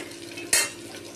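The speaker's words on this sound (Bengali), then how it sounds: "পেঁয়াজগুলো ভাজা হয়ে গেছে একটু, এরপরে দিয়ে দেবো সবজিগুলো" Chopped onions frying in a pan for chicken stew, a low sizzle under one quick, sharp scrape of a spoon stirring against the pan.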